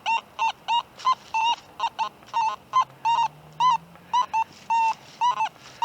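A Nokto Makro Simplex metal detector sounds its target signal tone during a park hunt as a rapid series of about twenty short, clean, bright beeps in uneven rhythm, fairly loud and alone.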